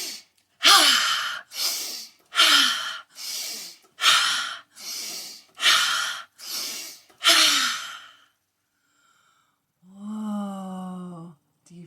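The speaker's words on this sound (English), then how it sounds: "We're going to breathe this fire breath into the sky." Children blow out hard in a dragon fire-breath exercise, seven strong, evenly spaced whooshing exhales followed by a short pause and a voiced sigh.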